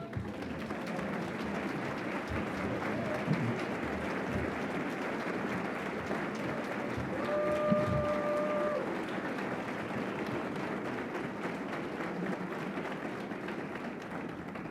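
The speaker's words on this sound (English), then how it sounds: "please stand for a round of applause." A room of attendees at a community foundation annual meeting gives a sustained round of applause, dense steady clapping at moderate distance, with a brief tonal sound partway through and no talking over it.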